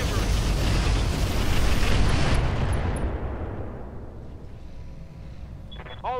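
A volley of rockets fired from a Treadnought mech in the game Roguetech: a loud, roaring burst of launches and blasts that rumbles for a couple of seconds, then gradually fades, with small electronic chirps at the end.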